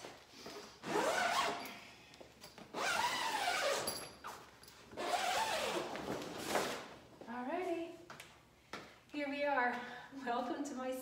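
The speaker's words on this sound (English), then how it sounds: "And we're gonna unzip it." A zipper is pulled open on a fabric grow tent set up as a near infrared sauna, giving several scratchy bursts close by, with a person talking throughout.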